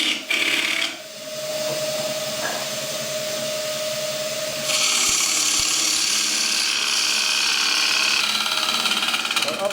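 A wood lathe turns a green timber bowl, with a continuous motor whine and tonal hum that thickens into louder, brighter cutting noise partway through as the tool bites into the wet wood.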